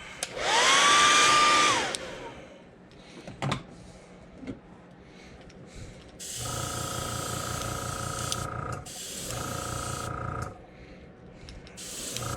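Hair dryer blasting in short bursts to dry paint on a custom fishing lure, a loud whooshing hiss that starts and stops several times, with handling noises in between.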